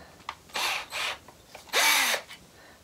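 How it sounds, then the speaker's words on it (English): A power drill whirs in short bursts while boring a hole into a plastic bin: several brief high-pitched runs, then a longer one, close and clear with no talking. "we're going to drill a hole about 1 inch from the bottom"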